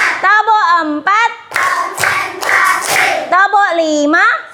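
A burst of several quick hand claps sounds in the middle, with children's voices chanting rhythmically before and after.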